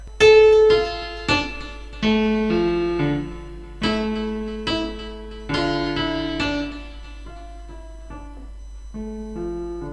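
Piano notes and chords of a piece played at a moderate, even pace, each one ringing out clearly before the next, with no voices.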